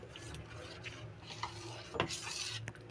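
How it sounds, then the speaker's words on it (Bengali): Jaggery being stirred into a pitha batter, a steady soft scraping and swishing of a spoon in a bowl close by, with a brief knock of utensil near the two-second mark. "দিয়ে দিলাম একটু গুড় ঠিক আছে এবার ভালো করে এটা মিলিয়ে নেবো"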